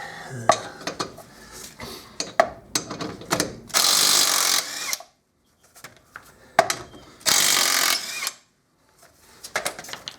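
Socket wrench on the front brakes of a Fiat Fiorino, undoing the nuts: clusters of sharp ratcheting clicks and metallic clanks, close and fairly loud, broken by two long bursts of broadband hiss and short silences.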